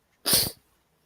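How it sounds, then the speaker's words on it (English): A single short, sharp sneeze bursting out after a brief silence, close and fairly loud, then fading quickly. "Sorry, I sneezed."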